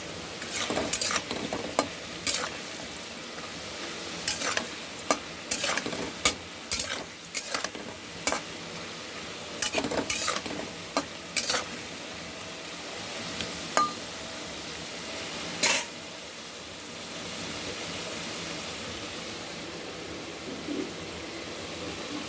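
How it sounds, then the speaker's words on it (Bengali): Cut potato pieces fried red in a pan, a continuous sizzle under repeated sharp scrapes and clinks of the spatula stirring at irregular intervals, with no voices. "কাটা কাটা গাছ আলুটা আমি পুরো লাল করে ভাজলাম"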